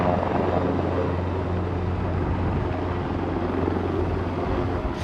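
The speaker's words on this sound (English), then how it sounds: "The only quick way to get here is by helicopter." A helicopter shuttling injured people near the epicenter of the Morocco earthquake, heard as a continuous, fairly close rotor thrum and engine roar that holds steady for five seconds with no voices.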